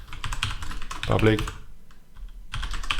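Computer keyboard keys clatter in quick bursts while code is typed into a .NET Core MVC web application, close and steady, with someone speaking over part of it.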